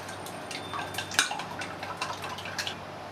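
Sugar and soy sauce are mixed in a bowl, producing a quiet series of light clinks and wet taps as a utensil works against the sides, one sharper knock standing out.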